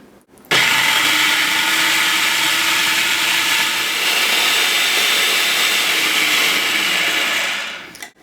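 Food processor grinding strawberries and bananas for sorbet, a loud steady motor whir starting abruptly and running continuously for about seven seconds before winding down, close and alone.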